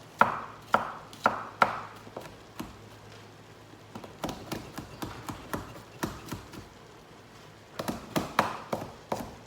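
A knife chops garlic on a cutting board in a home kitchen while chili is being made. Quick, crisp taps land close by in short bursts, with pauses between the runs.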